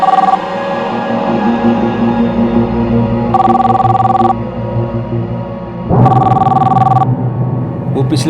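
A home landline telephone rings in two bursts, one near the middle and one toward the end, over a steady hum and background murmur.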